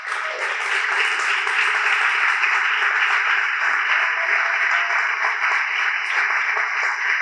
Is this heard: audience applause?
yes